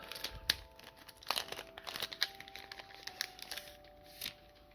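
Yu-Gi-Oh Rarity Collection 2 booster packs being torn open from a display box: close crinkling foil and crisp tearing rips, with several sharp crackles scattered through and no talking.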